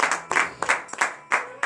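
A congregation gathered for a morning prayer service claps in uneven bursts of rhythmic hand-clapping, close and loud, with short gaps between the rounds and no talking.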